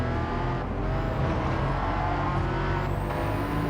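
Aston Martin race car in a racing game on Deep Forest Raceway, its engine droning steadily in third gear with a constant even roar and a faint rising whine near the end.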